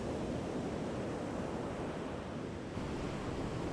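Ocean surf breaks on a wide, expansive beach at Little Talbot Island, Florida, making a steady, loud, continuous wash of broadband noise with wind buffeting the microphone throughout and no voices.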